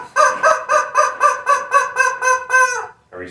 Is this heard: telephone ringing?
no